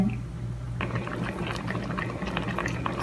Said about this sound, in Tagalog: So, ayan guys, kumukulo na siya.